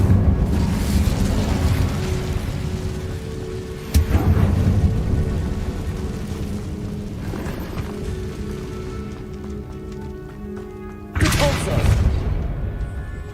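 Incendio fire spell in Hogwarts Legacy: a steady crackling, rain-like roar of flames with two sharp, loud bursts of fire several seconds apart, each flaring up before settling back to the crackle.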